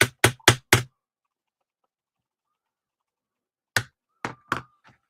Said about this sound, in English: I use my little hammer just fine.